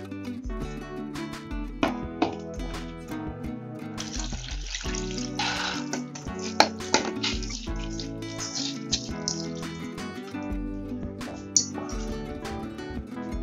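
Water running and splashing from a tap as soaked moong dal is drained, a steady flow with some drips and clatter, close and fairly loud, no voices.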